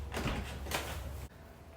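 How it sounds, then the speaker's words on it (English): Car door on a C4 Corvette opens with a short clunk and latch release, a brief close, fairly loud thump followed by quiet. "Now that you got the door open"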